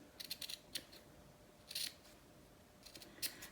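Sharp snips of scissors cutting fabric while sewing a garment, shaping at the armholes: a few quick cutting bursts in short clusters, close and fairly quiet, with no talking.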